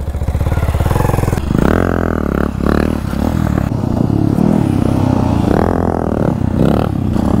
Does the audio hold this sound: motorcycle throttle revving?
yes